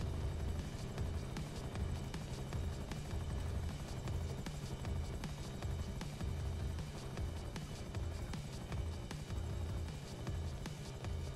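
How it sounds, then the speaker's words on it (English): Rotor throb of a helicopter flying overhead in GTA Online, a steady pulsing drone that holds at even loudness throughout with no talk. "Why am I locking on to a helicopter up there?"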